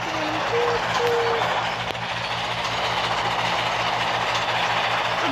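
A train rolls past close by with a loud, steady rumble and a rattling hum that carries unbroken from start to end.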